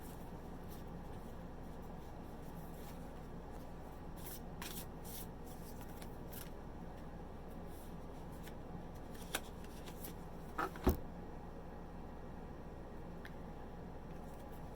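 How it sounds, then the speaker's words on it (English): A deck of The Universe Has Your Back oracle cards is shuffled by hand at close range in a quiet room. Soft papery riffles and slides continue throughout, with a few sharper taps near the end. "I will be pulling one card from this deck"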